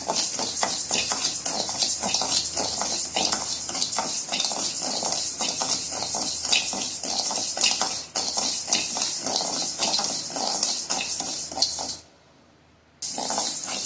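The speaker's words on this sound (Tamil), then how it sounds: "அரிசி வறுக்கிறேன்." Rice being dry-roasted in a pan while making homemade chilli powder, giving a steady, dense rattling hiss of grains stirred and shifting against the metal; it runs loud and continuous for about twelve seconds, then cuts off into near silence.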